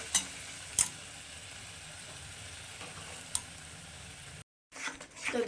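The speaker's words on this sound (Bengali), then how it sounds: "এখন এটাকে আমি একটু খুব ভালো করে কষাবো এটার সঙ্গে মশলাটার সঙ্গে" Spinach paste and spices being stir-fried together in a pan for an egg and spinach dish, a soft, low sizzle with faint spatula scrapes and a few light clinks, briefly cutting out before the stirring resumes.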